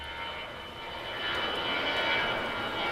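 At the US air base at Da Nang during the Vietnam War, a military aircraft drones overhead, a steady engine roar that swells slightly as it passes, with no voices.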